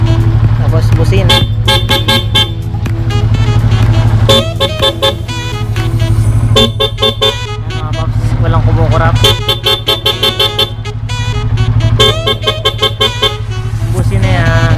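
Several short toots of an aftermarket horn on a Yamaha Sniper 150 motorcycle sound over a steady loud background tone, with bursts repeating every second or two across the stretch.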